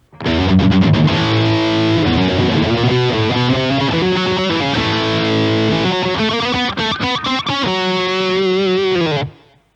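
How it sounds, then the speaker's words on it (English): Thick overdriven electric guitar through an Ibanez Tube Screamer stacked with a Kamise distortion pedal churns through a riff alone, with ringing chords, choppy muted bursts near the end, then a sudden cutoff. "We're going to add the Tube Screamer to this Kamise pedal."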